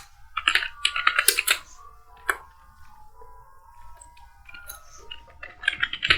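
Bursts of close, crisp keystrokes on a computer keyboard while HTML code is written in VS Code, quick clusters of clicks separated by quiet pauses, with no speech.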